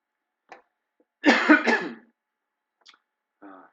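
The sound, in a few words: cough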